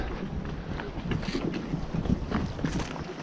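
Gusty wind buffeting the microphone outdoors, rumbling and rushing in uneven surges, with faint movement noises underneath.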